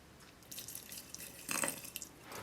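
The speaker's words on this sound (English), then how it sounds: "Next, add your water." Water poured into a glass jar holding soil for a small terrarium-style science demonstration, making a short trickling, splashing run that swells briefly midway and then tapers, faint and close with no talk.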